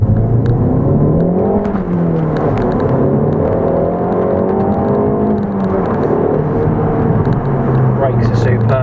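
Ford Focus ST 2020 hot hatch on UK roads, its engine and exhaust droning steadily with rising and falling pitch as it pulls through the revs, heard from inside the car under continuous talking.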